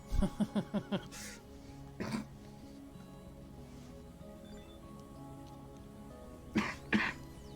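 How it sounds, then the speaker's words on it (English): A person coughs in a quick burst of several harsh coughs at the start, then gives single coughs and throat clears later, close to the mic over faint game background sound. "Sorry for the coughing."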